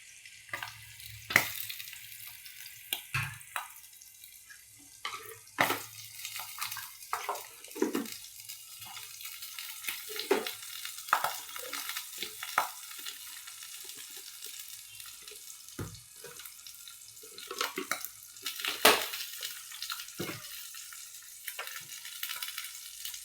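Malvani-style fish frying in a pan gives a steady, faint sizzle, broken by occasional clinks and stirring scrapes close by, with no voice heard.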